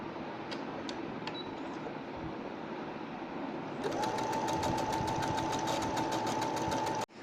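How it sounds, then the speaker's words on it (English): A sewing machine stitches a folded quarter-inch strip of blouse fabric. Low handling noise comes first, then a loud, steady rapid stitching hum starts partway through and runs until it stops abruptly. "just fold a 1/4 inch like this and sew it"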